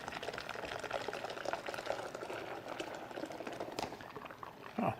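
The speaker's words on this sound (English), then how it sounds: "We're just going to pour that marinade down in here." Marinade is poured into a tight food saver bag holding a pork picnic shoulder, a continuous soft liquid glug and splash close up, ending with a brief louder rustle of the bag.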